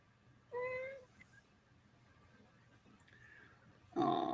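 A house cat, partly Bengal and Siamese with tabby-like looks, gives one clear, fairly close meow lasting about half a second, followed by quiet and then a brief louder rustle or vocal sound at the end.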